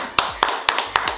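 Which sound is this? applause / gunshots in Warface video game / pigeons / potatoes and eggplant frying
applause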